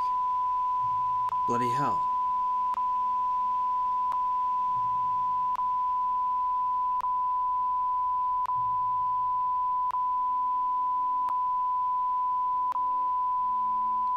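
A continuous steady electronic beep tone runs through the whole clip with regular faint ticks, while people talk over it.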